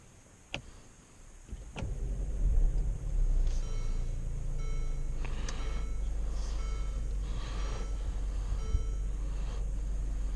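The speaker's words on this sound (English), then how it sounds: "let me go ahead and take you guys out and show you how it drives" A 2017/18 Infiniti QX30 Premium AWD pulls away on the road after a couple of sharp clicks or knocks. A low engine and road rumble then builds and holds steady from inside the cabin.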